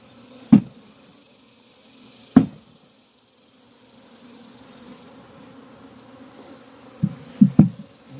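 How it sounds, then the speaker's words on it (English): Honey bees hum in a low, close drone as they are shaken into a hive, punctuated by several sharp knocks and thumps of frames and box. "give it a good shake, get all the bees down in the bottom"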